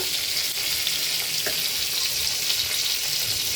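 Eggplant frying slowly in a pan, a dense steady sizzle heard up close with a faint click or two, no voices.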